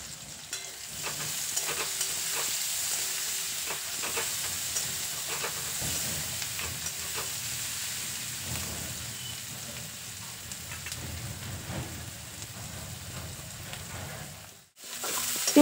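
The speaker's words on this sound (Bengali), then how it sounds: "পেঁয়াজটা হালকা লাল করে ভেজে নিয়েছি" Chopped onions fry in hot oil in a wok for a Bengal-style crab curry, a steady close sizzle and hiss with occasional stirring scrapes throughout, no talking, cutting out briefly near the end.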